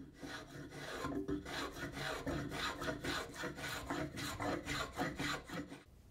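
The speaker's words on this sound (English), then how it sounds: "Spoke shaves are great for freehand shaping or cleaning up curves that the machines have cut." Hand spokeshave working freehand along a wooden piece, close and steady with rhythmic rasping strokes, about one pass every half second, continuous shaving sounds with no voices.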